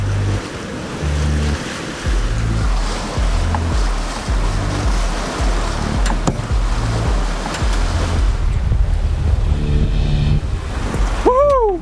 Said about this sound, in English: Wind's picked up a little bit now.